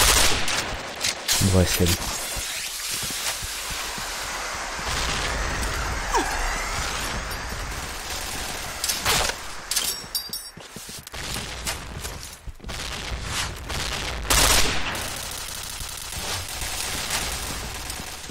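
Gunfire in the online shooter Point Blank, with a P90 on the Luxville map: near-constant bursts and rattling shots from several weapons throughout, under brief spoken callouts.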